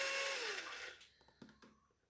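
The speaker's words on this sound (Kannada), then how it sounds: "1 ಟೀ ಸ್ಪೂನಷ್ಟು ಲೆಮನ್ ಜ್ಯೂಸ್ ಹಾಕಿ ಇದನ್ನು ಮಿಕ್ಸಿ ಮಾಡ್ಕೊತಿದ್ದೀನಿ." A kitchen mixer grinder whirring through veg mayonnaise of milk and lemon juice, its motor noise loud at first and then dying down, with a few clattering knocks as the jar settles.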